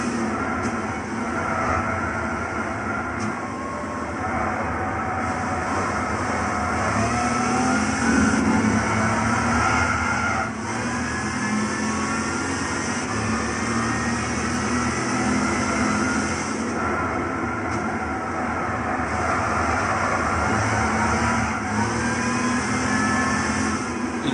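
Plymouth AAR Cuda 340 Six Barrel '70 engine in Gran Turismo 6, lapping the Nordschleife, a steady loud drone that rises and falls through the gears with no pauses.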